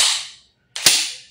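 An Umarex HK416D Gen 3 airsoft gas blowback rifle fires a single sharp shot with a crisp snapping report and a short mechanical clack, close and loud, after a brief hiss and a pause of silence.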